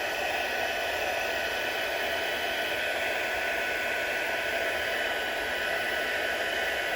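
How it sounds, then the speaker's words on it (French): Stampin' Up heat gun blowing steadily at close range, a constant hiss of rushing air with no breaks. "Le pistolet chauffant de Stampin' Up, il y a 2 vitesses."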